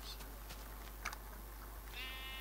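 A sheep bleats in Minecraft, a short nasal call near the end after a few faint clicks and game sounds, quiet overall over a low steady hum.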